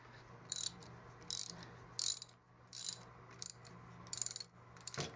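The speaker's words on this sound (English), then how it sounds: "I'm struggling with this bearing pulley." Repeated squeaky, high-pitched chirps of a bearing pulley being fitted on a jointer, about seven short bursts at a fairly even rhythm over a low steady hum.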